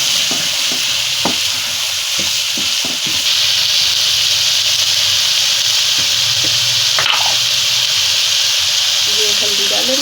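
Large chillies hiss and sizzle in hot oil in a pan, a loud, steady frying roar with scattered crackles and spoon scrapes, while someone talks quietly underneath.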